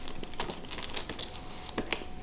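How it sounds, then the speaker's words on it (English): Packaging around a new graphics card being unwrapped, a close series of crinkling plastic and paper rustles with a few sharper tearing bursts, quiet and without talk. "We're gonna open the graphics card."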